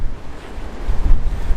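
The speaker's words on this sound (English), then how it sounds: "Wet, windy." Gusting wind on a wet, windy night in London, a low rumbling buffet across the microphone with a steady roar that swells and surges near the end, and no voices.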